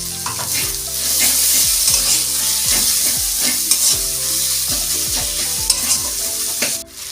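Garlic and ginger paste with a pinch of salt sizzles loudly in a hot pan for a chana masala, while a spatula scrapes in a regular rhythm of repeated strokes and no one speaks.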